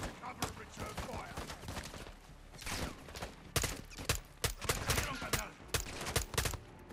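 Gunfire in the Call of Duty Modern Warfare 2 campaign, loud bursts of rifle and automatic fire in rapid irregular volleys, close and sharp, with shouting mixed in during a firefight.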